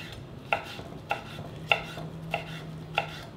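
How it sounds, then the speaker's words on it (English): A knife julienning fresh basil on a cutting board, producing five crisp, evenly spaced taps roughly every half second, close and clear against a quiet room with a low hum. "I'm going to take some fresh basil and I'm going to julienne that up"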